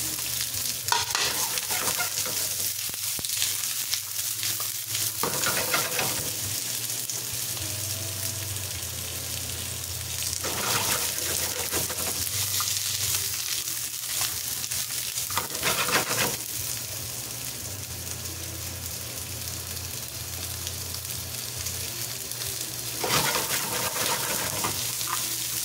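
Onion sautéing in a pan while soy vinegar milkfish is being cooked, a steady loud sizzle with repeated stirring and scraping throughout, no talking.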